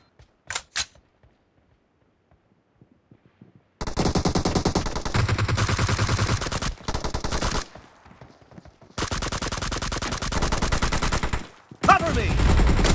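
Rapid automatic gunfire from a team deathmatch video game, loud bursts of machine-gun fire with brief pauses between volleys, preceded by a couple of isolated shots.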